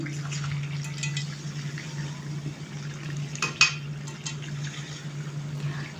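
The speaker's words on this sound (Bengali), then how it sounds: "আবারও একটু ভালো করে মিশিয়ে নিচ্ছি যাতে তলায় ধরে না যায়" A chicken and potato curry being stirred in a pan so it doesn't stick gives soft scraping and gentle bubbling with light liquid sounds over a steady low hum, close and moderately quiet, with no speech.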